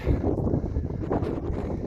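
Steady gusting wind buffets the microphone on an exposed hillside on a mountain walk, with a low, rumbling roar and faint rustling throughout.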